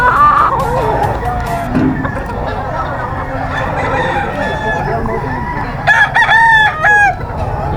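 A Black Spartan bull stag gamefowl crows at a busy gamefowl market, with several short close crows near the end over a noisy crowd murmur and other birds clucking.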